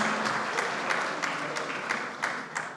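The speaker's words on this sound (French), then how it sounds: "Monsieur l'ambassadeur, si vous vous levez pour qu'on vous applaudisse, s'il vous plaît." Guests at a ceremony applaud the ambassador, a moderate, even patter of many hands with a few sharper individual claps standing out, heard at a slight distance with faint voices beneath.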